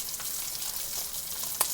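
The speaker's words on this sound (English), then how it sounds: "And he's sizzling pretty good." Rainbow trout frying in butter in a pan, a steady close hiss and sizzle with faint crackles and one brief sharp pop near the end, no talking.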